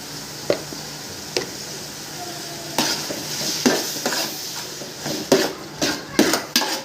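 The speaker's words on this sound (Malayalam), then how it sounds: "ഇഞ്ചി വെളുത്തുള്ളി പേസ്റ്റ് ഇട്ട് കൊടുക്കാം. ഇതൊന്ന് നന്നായിട്ട് മൂത്ത് വരട്ടെ." Ginger garlic paste fries in a pan for biryani under a soft, steady sizzle, punctuated by sharp scrapes and clinks of stirring that grow busier toward the end, with no voices.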